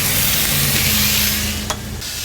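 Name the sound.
pork tenderloin searing on a Kamado Joe grill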